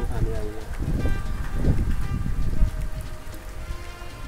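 Rain falling steadily during the monsoon season near a house, a continuous pattering wash with birds faintly audible in the background.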